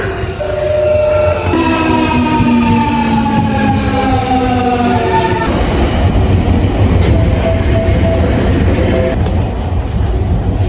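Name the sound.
train arriving at a station in Osaka, Japan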